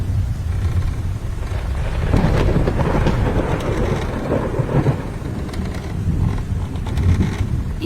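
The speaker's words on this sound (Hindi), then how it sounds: "बारिश इतनी तेज थी कि पूरे जंगल में बारिश का पानी बहने लगा।" Heavy rain pours over a forest in a steady, dense roar with deep rumbles of thunder rolling underneath, loud and continuous with no voices.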